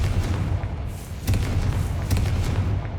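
A Confringo fire spell blast in Hogwarts Legacy, a dense low rumbling roar with repeated heavy thumps over about three seconds, loud and close with no voices.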